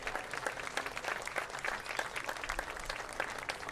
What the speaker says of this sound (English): One more big round of applause for our North All-Stars.